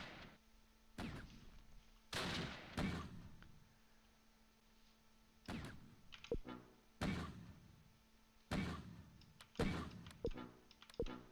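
Enemy gunfire in Close Combat Last Stand Arnhem, set at Groesbeek Heights South: sharp, separate shots and thuds that come in irregular clusters over steady quiet background noise.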